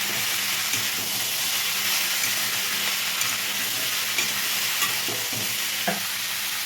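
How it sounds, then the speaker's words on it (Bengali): Mixed vegetables with salt and turmeric are stirred in a hot pan, a dense steady sizzle and hiss with faint spatula scrapes every second or so, close and even, no one talking. "দিচ্ছি হলুদ, এবার অনেকটা নেড়ে মিশিয়ে নিচ্ছি"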